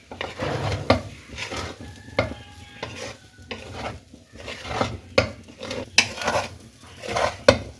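Egg fried rice with soy sauce and chilli sauce is stirred in a pan, the spatula scraping and clinking against metal in a steady, uneven rhythm over a soft sizzle, close and fairly loud throughout.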